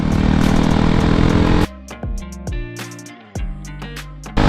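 A Kawasaki Ninja 1000 motorcycle engine roars loudly through corners, a steady high-revving drone cut by sudden throttle-offs and gear changes, then rising again with sharp revving bursts.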